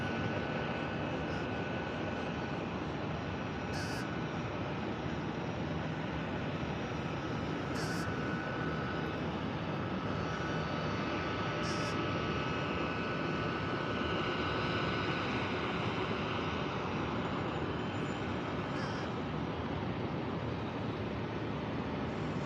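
An airliner's jet engines roar through a go-around at Tampa International Airport, a steady, loud, broadband rumble that holds for the whole stretch with no talking.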